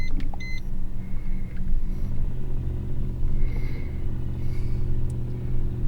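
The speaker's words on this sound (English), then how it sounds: "Man, I hear some Chevy Thunder coming." A Chevy engine rumbles loudly and deeply nearby, a steady low throb swelling slightly as it passes, with faint beeps from a scan tool early on.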